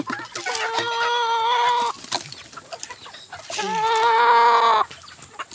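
Chickens cluck and call in two loud, drawn-out bursts, close by, with a brief quieter gap in between.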